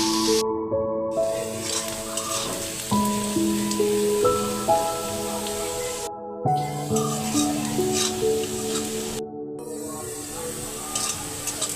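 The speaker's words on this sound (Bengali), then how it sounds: "এখন এই পেঁয়াজ কুচিগুলো এভাবে নেড়ে বাদামি কালার হওয়া পর্যন্ত অপেক্ষা করি" Chopped onions sizzle steadily in a pan while being stirred until brown, for a chicken skin and feet bhuna, with a continuous hiss and soft scraping under prominent melodic background music.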